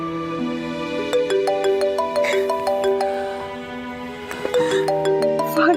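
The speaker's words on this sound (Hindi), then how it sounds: "फारिस का फोन" A mobile phone ringtone plays a bright electronic melody of stepped notes, loud and clear, repeating its short phrase with no speech over it.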